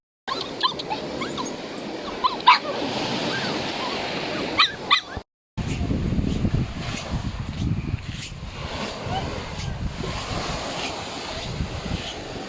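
A dog on Puka Beach, Boracay, barks a few times over steady surf and wind, with waves washing in throughout and a brief break midway.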